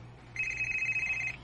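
Telephone ringing with an incoming call, a single steady electronic trill of about one second, clear and fairly close against a low background hum.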